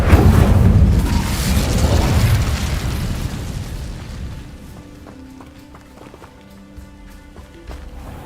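A fire spell cast in Hogwarts Legacy, a loud whooshing burst of flame that fades after a few seconds into quieter game ambience with faint tonal chimes.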